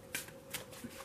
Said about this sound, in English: I'm gonna start shuffling for the next pull while I am talking.